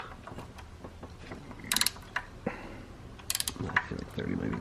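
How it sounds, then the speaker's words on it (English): A ratchet with stacked socket adapters tightens engine bolts during a BMW E36 head gasket replacement, giving short bursts of quick clicking with some metallic clinks under occasional low talk nearby. "so that we can tighten all these bolts here"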